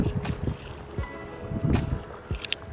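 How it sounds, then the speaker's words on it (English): Water outdoors on a chilly evening, heard as irregular low splashing and lapping surges mixed with gusty wind noise, with no voices. "I don't know if you guys can hear the water"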